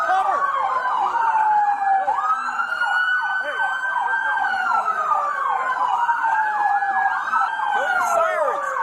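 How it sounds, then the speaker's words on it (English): Police car sirens wail loudly and close by at a traffic stop, overlapping rising and falling tones sweeping continuously with a second siren layered in, while a voice shouts briefly. "Kill your sirens."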